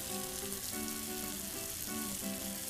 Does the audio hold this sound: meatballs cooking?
yes